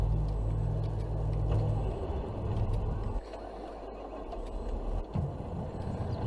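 Truck engine driving in Farming Simulator 22 on a Pacific Northwest farm map, a steady low rumbling drone that drops in pitch and loudness partway through, then resumes unevenly.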